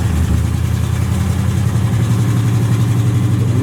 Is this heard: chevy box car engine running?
yes